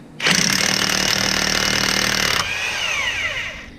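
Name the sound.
tool backing off a 27mm sheave bolt on a Yamaha Wolverine X4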